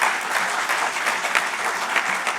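An audience at the AYUSHCON conference in Vigyan Bhawan, Delhi, applauds in a steady, dense wash of clapping from many hands, fairly loud and continuous throughout.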